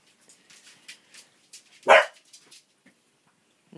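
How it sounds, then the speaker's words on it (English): Dogs bark from a pack at home, with one loud close bark standing out among several fainter scattered yips and woofs, heard alone without talk. "No barking."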